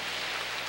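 Light drizzling rain falls outdoors in Glendora, a soft, steady hiss at low level that persists without breaks and without any voices.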